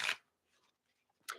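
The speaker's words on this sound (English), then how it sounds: "Let me shuffle your card decks." A deck of tarot cards is shuffled in two quick, close riffling bursts, one at the start and one at the end, with near silence between them.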